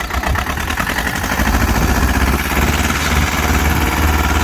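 A tractor engine labours under heavy load after slipping during a pulling contest, a loud, steady, throbbing drone with a deep low-end rumble that runs without a break and with no talk.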